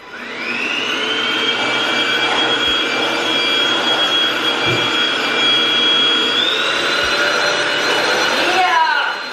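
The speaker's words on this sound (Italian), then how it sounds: "Quindi si passa l'aspirapolvere, ragazzi." A vacuum cleaner roars steadily and loudly throughout, its whine shifting slightly in pitch near the end, with a few faint bumps.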